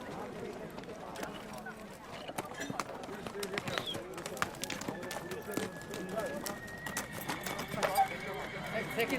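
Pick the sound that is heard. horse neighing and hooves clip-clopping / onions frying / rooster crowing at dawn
horse neighing and hooves clip-clopping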